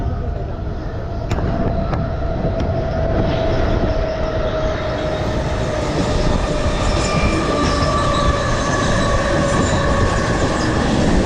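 A Mumbai local train running near Khandeshwar station: a loud, steady rumble of wheels on rails with faint high squeals and occasional clicks, continuous throughout and close by.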